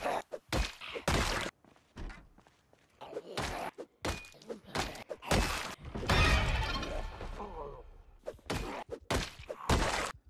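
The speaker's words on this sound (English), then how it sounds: "I heard the glass break" Several sharp glass-shattering crashes and thuds from a window breaking in the zombie survival game Project Zomboid, loud and close, with one longer smashing burst in the middle and little talk.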